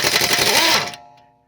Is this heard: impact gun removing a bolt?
yes